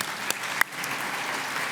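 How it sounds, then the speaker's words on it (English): An audience at a leadership dinner applauds, a short burst of steady clapping from a crowd with a couple of sharper individual claps standing out. "please join me in a round of applause for everyone"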